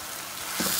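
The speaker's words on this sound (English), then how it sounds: "and saute this for about a minute as well" Red bulgur sautéed in a pan gives a brief, close, continuous sizzle and frying hiss that swells slightly toward the end.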